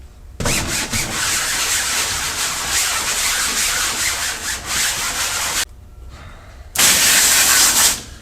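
Thick, slick screen printing mesh fabric being scrubbed with an abrasive, a loud continuous rasping rub that stops briefly and then resumes for a short final burst.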